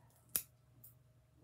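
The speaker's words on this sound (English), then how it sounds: "So let's get my scissors for the soil here. Just clip away a little at a time." Scissors clip roots and soil while a plant is being repotted, giving one sharp, close snip in otherwise quiet surroundings, followed by a faint rustle.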